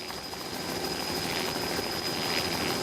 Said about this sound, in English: the helicopter hovers above the third elephant